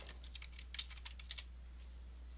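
Quick, soft keystrokes clatter on a computer keyboard in a short burst of about a dozen taps, then stop, leaving a low steady hum underneath.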